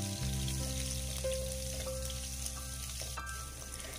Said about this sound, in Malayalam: ഇത് ചേർത്തിട്ട് ഒന്ന് ചെറുതായിട്ടൊന്ന് വഴറ്റി കൊടുക്കാം